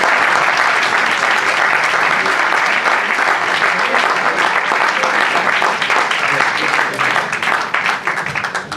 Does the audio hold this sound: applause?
yes